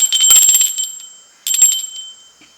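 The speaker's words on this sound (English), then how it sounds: "Let's ring the bell" A bell rung to clear energies at the start of a tarot reading, struck twice with bright ringing tones, each strike decaying over about a second, loud and close with no talk over it.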